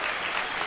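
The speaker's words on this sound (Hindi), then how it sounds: "प्लीज आप सब मेरे बाबा के लिए तालियां बजाएं" Audience applause in a brief, dense wash of many hands clapping, steady and fairly soft, with no speech over it.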